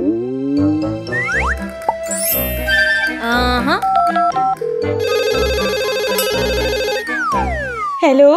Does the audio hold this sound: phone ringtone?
yes